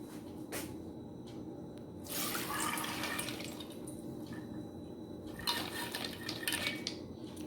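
Soaked, swollen mung beans are lifted out of their water in a kitchen, with splashing, trickling water and light clinks of a utensil against a bowl, quiet and close.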